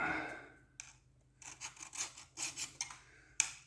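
A metal blade is filed to raise a burr, like sharpening a machete: a run of short raspy strokes, close and moderately loud, with a gap before the later strokes and one sharp scrape near the end.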